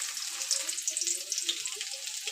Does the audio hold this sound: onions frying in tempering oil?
yes